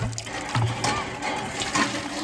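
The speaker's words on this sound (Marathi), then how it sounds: "पाणी प्युरिफाय होऊन येतं" Water runs steadily from a purifier tap into a container, a continuous splashing hiss with low humming tones underneath.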